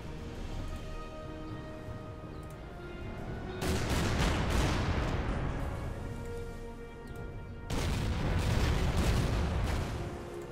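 Naval gunfire from a battleship attacking a submarine in Order of Battle Pacific, two long heavy rumbling salvos several seconds apart, each swelling loud then slowly fading into a low background hum.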